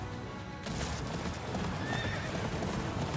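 A horse in the Attack on Titan 2 video game trots with clip-clop hooves and lets out a whinny, a short burst of close hoofbeats and neighing starting just after a quiet moment.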